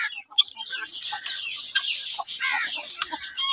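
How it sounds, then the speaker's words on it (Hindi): Chickens at a mini zoo cluck and chatter continuously while pecking at morning grain, close and fairly loud, with a faint voice in the background. "हमारी मुर्गियों को सुबह का दाना मिल रहा है"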